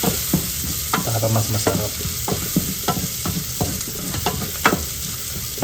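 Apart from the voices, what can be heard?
garlic sautéing in a pan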